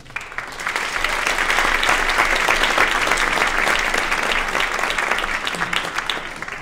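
A theater audience applauds steadily for a high school a cappella group at a Martin Luther King Day event, with dense clapping rising quickly and holding at full strength throughout with no talk.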